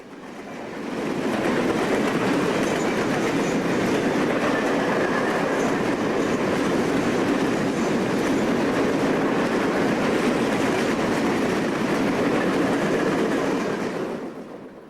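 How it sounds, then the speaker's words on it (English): A long westbound auto-carrier freight train rumbles steadily past on the rails at Oak Harbor, Ohio, a broad continuous roar that fades in and out at the ends, with no voices. "Another westbound auto train rounds the big curve at Oak Harbor with its ditch lights flashing."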